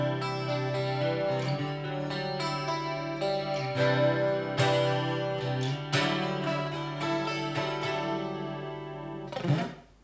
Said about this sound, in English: And I want to have an analog chorus.